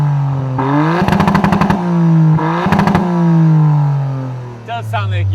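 Toyota GR Yaris with aftermarket exhaust pipe number 4, revved hard twice from idle: each blip rises into a loud rasping roar with crackles, then falls back to a steady idle burble. A short noise follows at the end.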